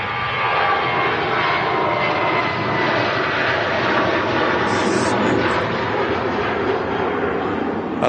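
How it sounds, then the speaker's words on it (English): A Jet2 Boeing 737-800 bound for Alicante takes off from Manchester Airport, its engines a loud, continuous broadband roar that holds steady throughout the climb-out. "This is off to Alicante. Yeah. Jet2 737-800."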